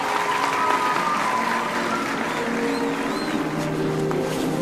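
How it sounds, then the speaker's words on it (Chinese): Wedding guests clap steadily for the groom's entrance, a dense, sustained wash of applause from a sizeable crowd, with faint tonal music threading underneath throughout. "接下来，就让我们用最热烈的掌声，有请今天的新郎言行之先生登场。"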